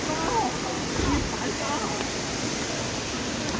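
Pulicharam waterfall in Kerala roaring as a steady broadband rush of falling water, close and continuous, with a voice briefly calling out over it.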